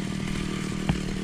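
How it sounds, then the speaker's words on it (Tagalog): A grass cutter's small petrol engine runs steadily nearby, a continuous buzzing drone that holds an even pitch throughout, with one faint knock partway through. "Abay, ayun na, grass cutter na to eh."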